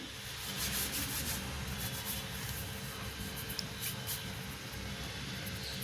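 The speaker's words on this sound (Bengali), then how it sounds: "কস্তুরি মেথিটাও আমি হাতে ঘষে নিয়ে দিয়ে দেবো এর মধ্যে" Dried fenugreek leaves (kasuri methi) rubbed between the palms to crumble them over a masala puri dough, a steady dry rustling scrape that runs continuously and close, with no talk.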